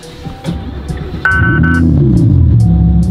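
A 2015 Lamborghini Huracan idles close by after being started, a steady low engine rumble that grows fuller after a brief change partway through, with a few light clicks over it.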